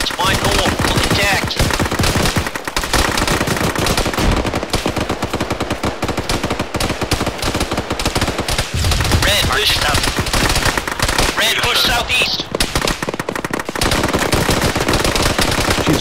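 Dense, nonstop automatic gunfire in the military game Arma 3, loud rapid bursts and shots layered continuously for the whole stretch with no pause.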